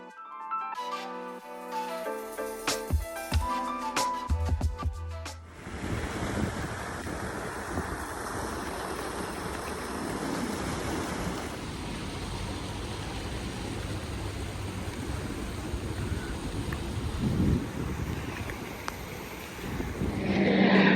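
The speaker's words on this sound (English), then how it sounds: "on my way back, it started to pour really hard" Steady, dense rush of heavy rain or wind-driven water noise, loud and continuous, after a brief stretch of tonal music at the start.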